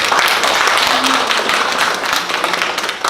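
A church congregation claps in a brief, dense burst of encouragement, the applause holding steady throughout the moment.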